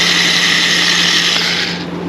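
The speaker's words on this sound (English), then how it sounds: "that's a rotary cutter, and if you've never used one of these before, that thing is the ticket" Close, steady whirring and scraping of a rotary cutter slicing through peel ply fabric for a fiberglass project, continuous for a couple of seconds before easing off at the end.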